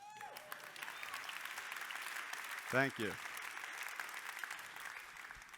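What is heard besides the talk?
keynote audience applauding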